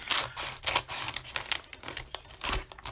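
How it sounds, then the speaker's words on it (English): A quick run of sharp, crisp snips and clicks, close and irregular, as scissors cut open a mail package, with light rustling between them. "I'm going to open the first one. I got my scissors handy."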